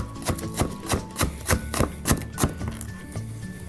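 Onion being finely chopped with a knife on a board, a rapid even series of about a dozen crisp close thuds that stay loud and regular throughout, with no voice over them.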